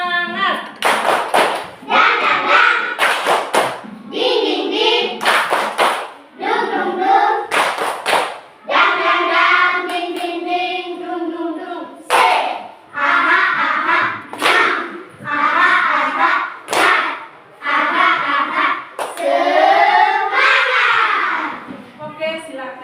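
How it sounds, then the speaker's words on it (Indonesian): A classroom group of students standing up performs a rhythmic spirit clap, with bursts of patterned handclaps alternating with children's chanting voices in loud, lively call-and-response throughout. "Tepuk semangat."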